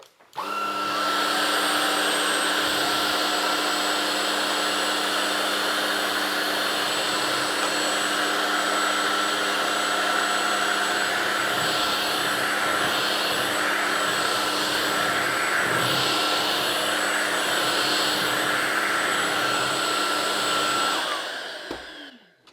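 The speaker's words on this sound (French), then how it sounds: "Donc je vais simplement passer en mode normal et on va aspirer tout ça." An Ultenic U16 cordless stick vacuum runs in normal mode, sucking up hair, with a loud, steady, high-pitched whine that starts abruptly, holds for about twenty seconds and then cuts off.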